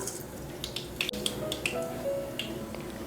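Mustard seeds and urad dal spluttering in hot oil in a cooker, giving scattered sharp pops and crackles at irregular intervals over a soft sizzle, close and without speech.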